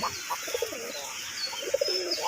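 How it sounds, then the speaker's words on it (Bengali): A pair of pigeons, colouring gola pigeons kept for sale, cooing close by in soft repeated throaty bursts over a quiet hissing background. "আপনারা দেখতে পাচ্ছেন কবুতর জোড়া মিটিং করতেছে"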